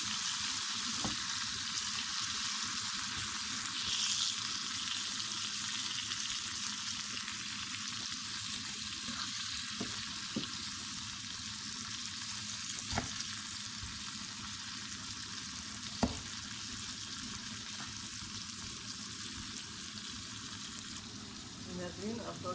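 White chickpeas frying in a pan for Karachi-style chana chaat, a steady dense sizzle running throughout with a few soft stirring knocks and clinks, close and fairly quiet.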